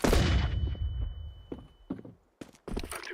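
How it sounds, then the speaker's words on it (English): A flashbang grenade detonates in Counter-Strike 2 with a loud, bright bang and a long ringing decay, followed by a few scattered footsteps and clicks. "I'm throwing a flashbang"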